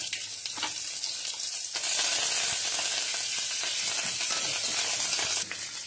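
Loud, continuous sizzling and crackling of mustard seeds and garlic frying in hot oil for a tempering, close up, with a brief louder surge partway through and no talking.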